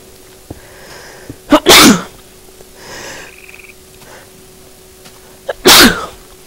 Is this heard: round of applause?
no